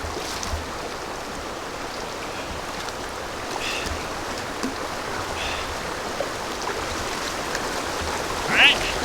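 Rushing water from a strong river current surrounds a kayak, a steady broadband wash with no talk and a brief louder splash near the end.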